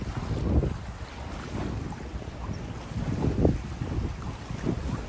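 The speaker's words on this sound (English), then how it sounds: "you can definitely hear the waves" Waves wash and lap on lakeside water during a night walk in Toronto, a continuous surging rush mixed with wind noise buffeting the microphone.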